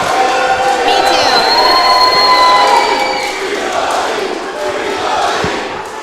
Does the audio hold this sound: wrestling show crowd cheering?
yes